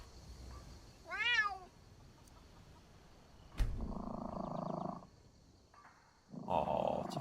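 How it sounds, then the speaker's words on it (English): A cat meows once in the video game Skyrim, a short rising-falling call early on. Later come a sharp thud and two bursts of low rumbling game noise. "Oh, it's a friendly little kitty."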